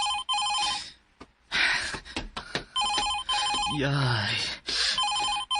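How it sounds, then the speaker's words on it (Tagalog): A telephone bell rings in repeated bursts of clear, bright trills, loud and close, with people talking between and over the rings. "Nibagting man ang telepono."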